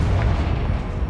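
A Confringo fire spell blast in Hogwarts Legacy lands as a dense, booming burst that stays loud and rumbling for about a second and stands on its own.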